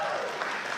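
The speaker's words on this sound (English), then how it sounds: "Can you just give yourself a really big hand clap?" A faith-leader audience at an interfaith conference claps together, a short burst of dense crowd applause, fairly even, with some voices mixed into the clapping.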